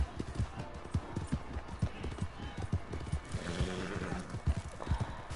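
Horse hooves from the video game Red Dead Redemption 2: a brisk, steady clip-clop of galloping hooves, close and rhythmic, with a whinny partway through and a person talking over the game.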